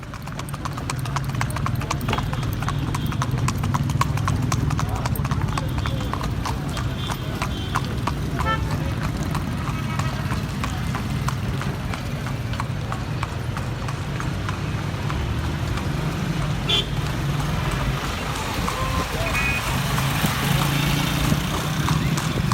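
Horse-drawn carriages clip-clop down a street in Luxor, Egypt, the steady rhythmic hoofbeats close and continuous over light street noise for the whole stretch.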